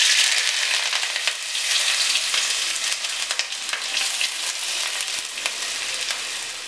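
Chopped shallots, slit green chillies, garlic cloves and curry leaves sautéing in hot oil in a pan for a Kerala thoran, a bright, loud, continuous sizzle with scattered light crackles and spatula scrapes throughout.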